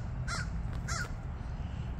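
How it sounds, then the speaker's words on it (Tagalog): Two harsh crow caws ring out one after another in a park in San Mateo, moderately distant over a low rumbling background. "May mga ibon."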